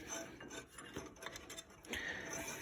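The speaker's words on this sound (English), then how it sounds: "It's not really sandpaper, it's a emery cloth. That way I could put it around the shaft" Emery cloth is drawn back and forth around the shaft of an Ariens ST7 24 snowblower, giving a close, dry rasping rub in uneven strokes with no talking.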